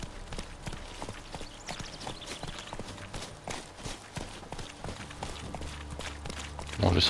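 Horse hooves clip-clop in The Witcher 3 video game, a steady, fairly loud run of evenly spaced hoofbeats over a constant ambient game background, with no talking.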